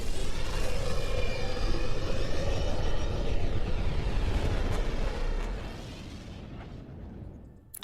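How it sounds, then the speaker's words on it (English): The Tempest starship departing in Mass Effect Andromeda, a loud, deep roaring engine rumble that holds steady, then fades away toward the end. "Nexus Control, this is the Tempest, ident 2527, prepping to depart."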